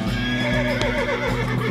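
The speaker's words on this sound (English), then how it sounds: "There's the horse." A horse in the video game West of Loathing neighs and whinnies over a steady game music bed, with a few clip-clopping hoof sounds mixed in, fairly loud and continuous across the short moment.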